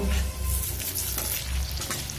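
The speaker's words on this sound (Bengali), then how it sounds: "এইভাবে উল্টে পাল্টে একটু লাল করে ভেজে নেব" Drumstick flower pakoras fry in hot oil as they are turned, giving a loud, steady, close sizzle that runs the whole time with no talking.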